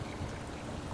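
A garden hose runs water into a backyard pool, a continuous gentle burbling trickle heard close and alone for about a second.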